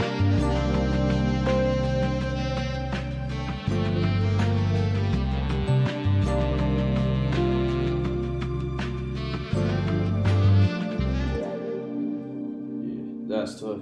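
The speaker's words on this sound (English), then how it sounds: "And then we just have one more like drum break element." A filtered drum break loops inside a chill melodic trap-style beat, muffled and low-passed, playing continuously under steady bass and layered melody for about eleven seconds before dropping out.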